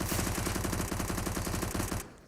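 Rapid sustained P90 submachine gun fire in Counter-Strike: Global Offensive on the Mirage map during a pro match, a loud continuous burst that cuts off abruptly near the end.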